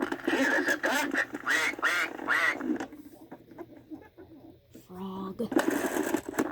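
Duck quacking from a Farmer Says See 'n Say toy, a burst of several quick, nasal electronic quacks, then a pause, with a voice speaking briefly before the quacks resume.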